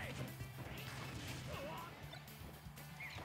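Barrels smashing into a fighter in a competitive Super Smash Bros. match, a series of crashing impacts over a busy game mix.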